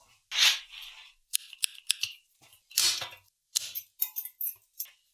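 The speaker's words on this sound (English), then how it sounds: "Tin snips are the way to go." Tin snips clip through stainless steel zip ties on a Honda XL100 motorcycle, giving a series of sharp, close snips and crunchy cuts in an irregular rhythm with short pauses between them.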